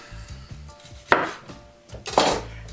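A turkey is cut apart at the joint with a knife in a kitchen, giving two sharp, close chopping strikes about a second apart over a low, uneven rumble.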